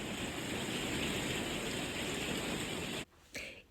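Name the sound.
rain outside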